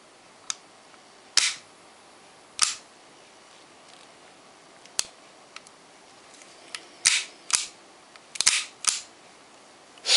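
Sharp metallic clicks from cocking the hammer of a full-metal KJ Works Beretta M92A1 airsoft pistol, a dozen or so crisp snaps at irregular intervals, close and clear in a quiet room with no talking.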